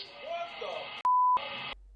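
Speech is cut by a single steady, loud electronic bleep lasting about a third of a second, then talk resumes briefly.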